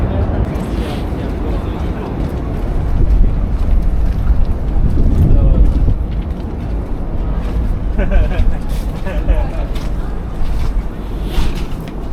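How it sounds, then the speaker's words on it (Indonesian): Strong wind buffets the microphone outdoors, a loud continuous roar and rumble with gusts swelling midway, while people talk beneath it. "karena anginnya di sini kencang banget"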